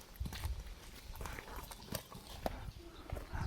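Two horses in a farmyard walk about, their hooves clip-clopping in an uneven run of close, sharp knocks over soft outdoor background noise.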